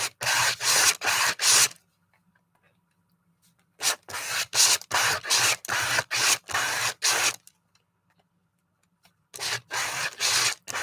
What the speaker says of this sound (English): this paint that I've got sitting on here, I think I'm just going to scrape it on this